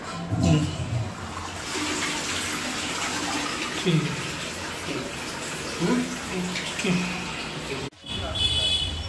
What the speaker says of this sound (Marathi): तशी ही बाजू ह्या साईडला केलास की शॉवर चालू आहे.